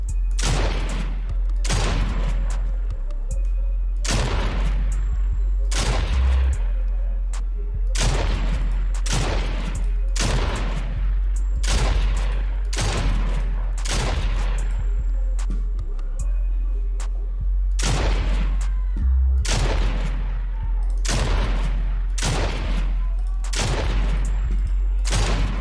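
Shots ring out in a Fortnite aim-training map as targets are hit, a loud, sharp report roughly every one to two seconds in a steady, evenly spaced series.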